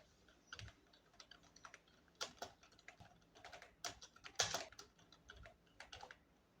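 A name being typed on a computer keyboard, with quiet, irregular key clicks in short bursts and no talking.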